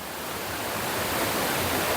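Steady broadband rush of the Watu Ondo waterfall at Cangar, Batu, East Java, a continuous close roar of falling water with no voices, swelling slightly louder over the span.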